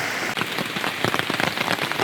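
Steady rain patters on a tent and camping gear during a Vancouver Island rainstorm, with close, dense drops and heavier drips from the rain fly landing continuously throughout, no voices.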